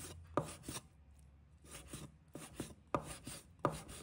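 A knife chops food, likely shredded meat, on a board in short bursts of quick close strokes with brief pauses between them, fairly quiet and with no talking.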